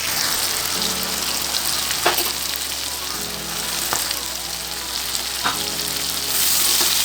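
Pigeon meat fries in hot oil with ginger garlic paste, a loud continuous sizzle broken by a few brief stirring scrapes, close up and without speech.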